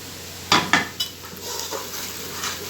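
Whole green chillies dropped into a hot pan for Lahori chickpea curry, starting with a few sharp clanks of utensils, then a softer frying sizzle with light stirring.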